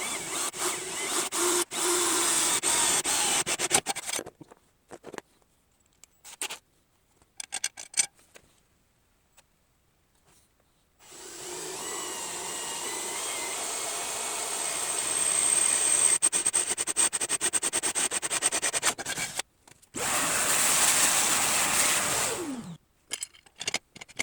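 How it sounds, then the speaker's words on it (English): A handheld power drill fitted with a sharper bit bores into metal on a mini bike project, running in loud sustained bursts that stop and restart with quiet gaps between them and no talking. "we're gonna try a different drill bit"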